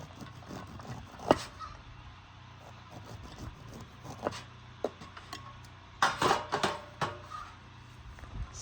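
A knife scrapes corn kernels off the cob into a pan during home canning prep, giving scattered clinks and scraping taps against the metal that bunch into a busier run near the end, close and fairly quiet with no talking.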